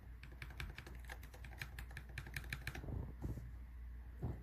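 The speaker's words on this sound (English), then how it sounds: "At just a little tap of a keyboard button" Rapid clicky typing on a MonsGeek FUN60 Pro magnetic-switch keyboard gives a quick run of crisp keystrokes close up, then a few soft thumps as it settles.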